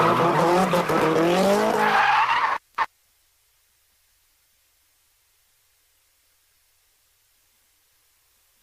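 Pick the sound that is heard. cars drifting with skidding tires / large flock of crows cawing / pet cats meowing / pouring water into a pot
cars drifting with skidding tires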